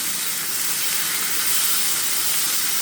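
Okra masala (bhindi) frying in a pan gives a loud, steady hissing sizzle that holds without a break for the whole stretch, with no voices.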